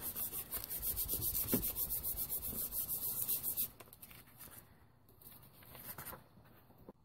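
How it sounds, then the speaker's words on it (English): Glitter being rubbed by hand into heat-and-stick powder on a craft piece, a steady close scratchy rubbing for several seconds that then drops to softer, sparser brushing. "flip it over and rub that glitter so that it's really into that heat and stick powder"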